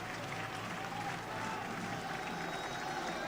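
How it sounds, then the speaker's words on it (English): A rugby league crowd at a Halifax versus Leigh match gives a big, steady round of applause as the home team, led by their captain, walks out onto the pitch, a dense wash of clapping with no break. "Halifax coming out to a huge rapturous round of applause"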